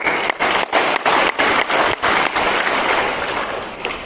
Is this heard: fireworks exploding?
no